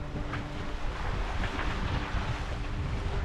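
Strong wind sweeps across a sailing boat at sea, a constant loud roar buffeting the microphone with water rushing beneath, and no voices.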